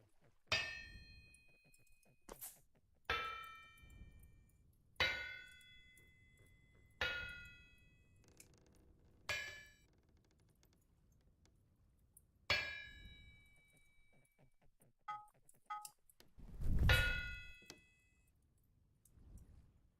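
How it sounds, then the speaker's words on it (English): Hammer blows ring out on a brass plate on an anvil in the game Vintage Story: about eight sharp metallic clangs spaced a couple of seconds apart, each with a bright decaying ring, then a louder final clash. "you're putting it under the hammer, so we're going to make a plate"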